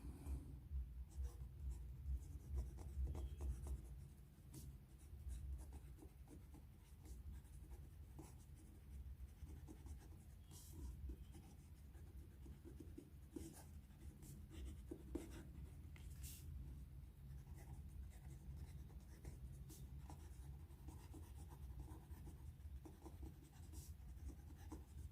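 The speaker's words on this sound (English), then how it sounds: "So let's see how this pen writes." A Visconti Homo Sapiens Bronze Age fountain pen with a rose-gold-plated palladium nib writing on paper, faint close scratching strokes in an irregular rhythm heard alone for the whole stretch.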